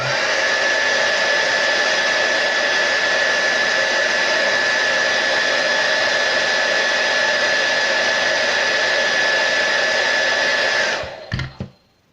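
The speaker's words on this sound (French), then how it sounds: "quand vous mettez votre sèche-cheveux en marche" A hair dryer, used to heat-shrink a new wrap onto a vape battery, blows steadily with a constant whirring hum for several seconds, then switches off with a few clicks and winds down.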